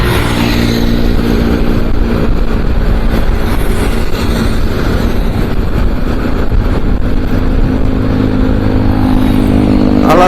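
A motorcycle riding along a city road, its engine loud and continuous from a close onboard position with steady rumbling throughout, no talking.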